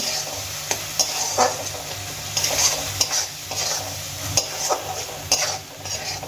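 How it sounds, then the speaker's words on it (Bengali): Tomatoes frying with onion in a pan for a restaurant-style tomato bharta, with a steady close sizzle and repeated stirring and scraping strokes throughout, no talking. "এবার আমি টমেটো খুব ভালো করে পেঁয়াজের সঙ্গে ভেজে নেব"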